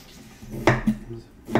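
A kitchen knife slices food into thin strips on a board, producing a few sharp close knocks spaced irregularly over a quiet background.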